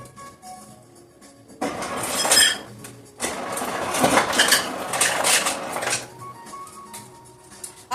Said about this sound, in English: So let me go ahead and get some ice here.